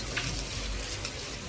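Chopped onions sautéing with salt in a pan for a quick bachelor-style chicken gravy, giving a steady, close sizzle and crackle that runs unbroken through the moment with no voices.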